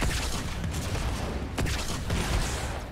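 Gunfire in the Halo 2 Anniversary video game, a dense, loud barrage of shots and impacts running continuously, with a few sharper bangs standing out.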